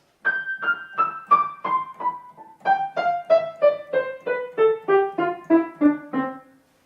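A descending run of short, detached piano notes, each plucked cleanly and separated by brief gaps, steps downward in an even rhythm.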